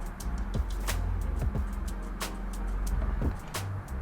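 Hyundai Kona with traction control off accelerating on rollers, a low steady engine and drivetrain hum with several sharp clicks and knocks over about four seconds, close and without talk.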